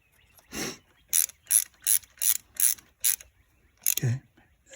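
Ratchet tightening a 10mm bolt on a variable timing control solenoid valve of a Chevy Malibu engine: a run of about six crisp, evenly spaced clicking bursts, close and clear, with a couple of softer handling sounds around them.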